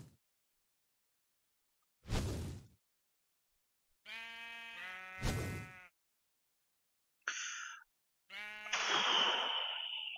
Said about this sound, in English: Get my sheep in here.